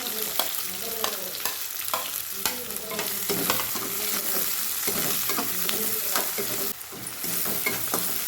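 Onion and green chilies frying in oil for a North Karnataka rotti oggarane, a loud close sizzle broken by frequent rhythmic scraping strokes of a spoon in the pan.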